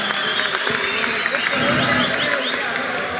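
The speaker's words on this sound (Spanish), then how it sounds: "En el escenario van a recibir con un fuerte aplauso a Nitro," An arena audience applauds as a contest winner takes the stage at a Batalla de Maestros freestyle rap event, a thick wash of clapping and crowd noise mixed with amplified voices.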